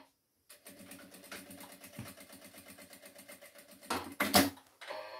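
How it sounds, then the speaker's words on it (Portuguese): After a brief silence, a sewing machine stitches quilted placemat fabric with a close, rapid, even chatter, ending in a few louder clicks and knocks. "eu venho aqui e vou passar um pé de máquina."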